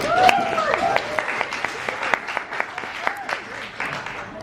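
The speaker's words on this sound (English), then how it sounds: "Round of applause," Audience applause at a book launch for Sue Nyathi's novel An Angel's Demise, scattered claps over a steady crowd wash lasting several seconds, with voices mixed in underneath.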